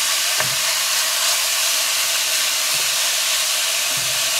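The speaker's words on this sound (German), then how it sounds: "Dann brate ich das jetzt an" Steady, loud sizzling and hissing of chicken and bacon frying in a hot Dutch oven, continuous throughout with a few faint clinks.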